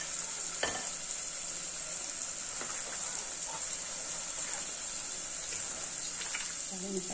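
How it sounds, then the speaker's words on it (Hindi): Mutton keema filling being stirred and mixed in a hot pan with mustard oil, garlic, ginger and garam masala, a soft continuous sizzle with occasional scraping taps of the spoon, fairly quiet and steady. "अब सबको मिक्स करूंगी।"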